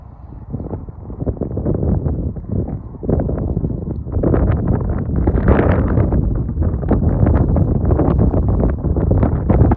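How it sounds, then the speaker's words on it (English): Gusting wind buffets the microphone at a hillside wild campsite on the Howgill Fells in Yorkshire, a loud, continuous rumbling roar that swells and eases in waves throughout with no voices. "The gusts tonight I think are about 16 miles an hour"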